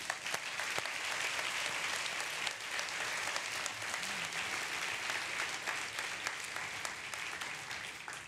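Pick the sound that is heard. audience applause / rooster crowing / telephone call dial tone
audience applause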